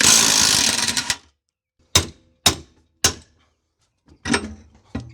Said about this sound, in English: Loosening the front bolt